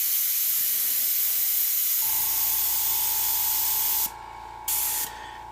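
A Micron airbrush sprays in a steady hiss, then breaks into two short bursts with brief gaps, close and fairly quiet.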